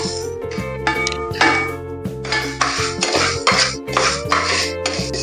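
Horse gram being dry-roasted in a metal pan, with repeated clinking and scraping of a metal spoon against the pan in irregular bursts, close and fairly loud.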